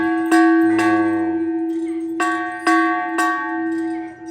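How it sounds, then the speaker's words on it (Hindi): A Hindu temple bell in Nepal struck several times at irregular intervals, each ring clear and resonant with a lingering tone, close by with a faint voice in between. "यहाँ पे इसको घंटी बजाई जा रही है ना"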